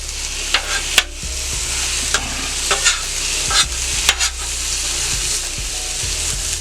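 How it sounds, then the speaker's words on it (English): Rice and onions sizzle steadily on a flat hibachi-style steel griddle, with a continuous frying hiss broken by several sharp metallic scrapes and clacks of a spatula against the plate; no one speaks. "right here in the middle, we're just going to add my fried rice"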